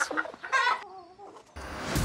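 A rooster clucks in short, bright bursts, with a sustained squawk in the middle, then gives way to a rough noisy rustle at the end, loud and close, with no talk over it.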